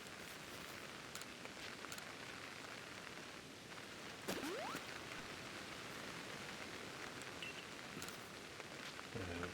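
Steady rainfall in the Pokémon Legends: Arceus video game world, a soft, even wash of falling drops pattering on surfaces, quiet and continuous, with a brief rising chirp-like game tone midway and no talking.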